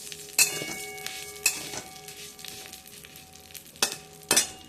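Vermicelli frying in ghee for a milk dessert, a soft steady sizzle broken by several sharp scraping stirs of a spoon against the pan, close and without speech.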